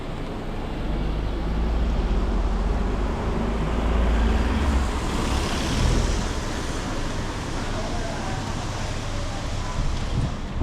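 Subdued street ambience on a flooded-looking Macau street after a typhoon, a steady broad wash of distant traffic and wind with no distinct passing vehicles, no voices.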